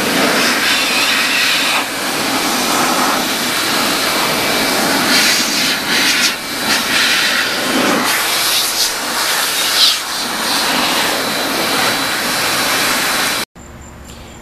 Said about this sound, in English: the leaf blower, which has a lot of dust in it